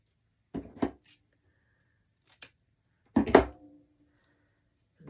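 Scissors snip through ribbon cut at an angle, giving three short, crisp, close cuts separated by pauses in a quiet room.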